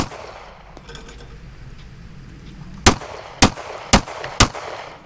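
Four sharp, loud gunshots fired at a target during a shooting drill, spaced roughly half a second apart after a stretch of quiet outdoor ambience.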